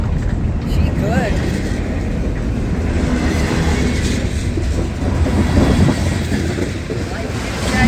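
A CSX mixed freight train rolls past in a steady, loud rumble with clickety-clack rail noise and some wind buffeting, while people talk over it.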